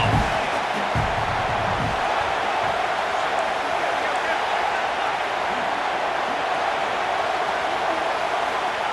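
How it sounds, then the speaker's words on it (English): A stadium crowd in the college football video game EA Sports College Football 26 roars in a loud, unbroken wash of noise throughout, with a few low thumps at the start and voices faintly underneath. "This crowd knows this defense needs them right now."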